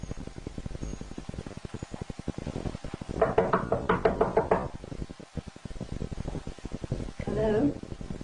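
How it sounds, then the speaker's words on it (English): A knock on a house door from outside, heard in a sitting room: a quick burst of several sharp raps in the middle, then a second shorter knock near the end, over a steady background hum. "she heard a knock outside."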